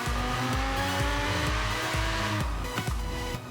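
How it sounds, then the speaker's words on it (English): A car launches in Forza Horizon 3, its engine revving through rising gear pulls with a faint tire squeal, loud and continuous with no talk. "you can hear the tires squeal just a little bit."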